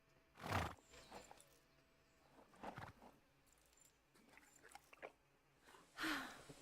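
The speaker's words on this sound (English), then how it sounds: "Another Groot-bred horse off to see the world." Horse in the game Kingdom Come Deliverance II, a few brief neighs and snorts with soft hoof clops and tack jangle between them, fairly faint against quiet background.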